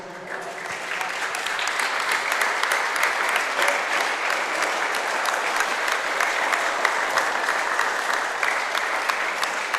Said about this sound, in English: big round of applause for the referee